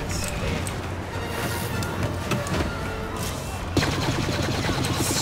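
Dense laser blaster fire from the Star Wars Battlefront game on an Endor map comes in rapid bursts over a loud, busy battle din, with a sharper blast near the end.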